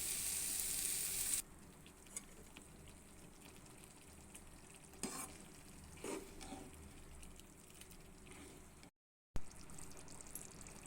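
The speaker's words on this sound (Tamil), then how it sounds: "புளி தண்ணி சேர்த்துக்கலாம்" Tamarind water is added to sizzling coconut, chickpea and spice masala in a pan. A loud hiss opens the sound, then settles to a softer, close bubbling simmer with occasional stirring clinks and a brief dropout near the end.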